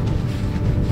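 Cool, fresh outdoor wind buffets the microphone in a steady low rumble, loud and close throughout with no voices.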